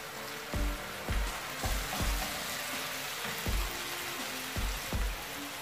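Ginger garlic paste fries in a pan with a steady soft hiss, broken by a series of regular dull knocks as the mixture is stirred, fairly quiet and close.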